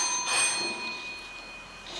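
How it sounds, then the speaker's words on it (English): A warning bell is struck once at a school English extempore speech competition, ringing out clear and bright, then fading slowly into a quiet room. "At the completion of 2 minutes, a warning bell will be given like this."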